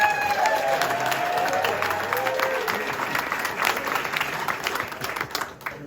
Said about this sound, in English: Applause for Gina